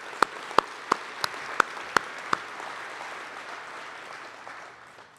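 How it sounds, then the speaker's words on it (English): Audience applause at an annual corporate directors' meeting, a broad wash of clapping from a large crowd with a few louder individual claps near the front, fading slowly toward the end. "So let's give Texas a big round of applause."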